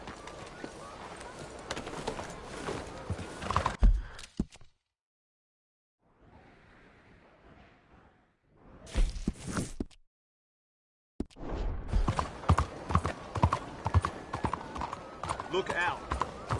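Horse hooves clip-clop in a cowboy video game, rhythmic and close in bursts that break off into silence midway and return, with a faint softer stretch between.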